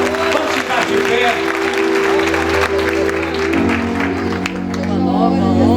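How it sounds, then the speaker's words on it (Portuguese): Church congregation applauding during a worship service, loud sustained clapping and crowd noise over steady musical tones, with voices mixed in throughout. "aplauda ao Senhor Jesus"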